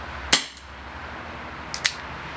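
A Dan Wesson 2.5-inch-barrel CO2 BB revolver fires once with a sharp, fairly close crack that decays quickly, then a faint metallic click and a second softer crack follow over a quiet indoor background.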